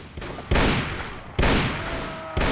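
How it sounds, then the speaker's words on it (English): Troops firing guns in Mount and Blade Warband: three loud, sharp volleys about a second apart, each a burst of overlapping shots that trails off into noise. "Keep firing."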